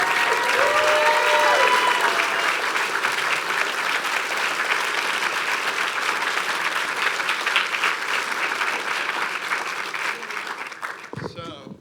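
Sustained applause from an audience for a group of student filmmakers from Burr and Burton Academy at a writing celebration, loud and dense, tapering slightly before cutting off abruptly.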